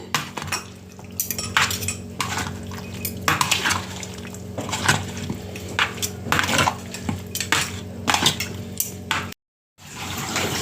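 Tinned milk and a pinch of salt are stirred together in a bowl, giving repeated close clinks and scrapes of a spoon against the bowl before a brief silence at the end.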